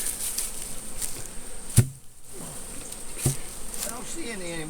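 Bees buzzing around an opened beehive, a steady close insect drone throughout with a couple of sharp knocks and a brief dip, while a person speaks faintly in the background.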